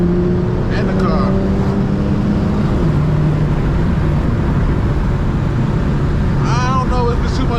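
An RWD Infiniti G37 drives along back roads, its engine droning steadily with shifting pitch under heavy wind noise from start to finish.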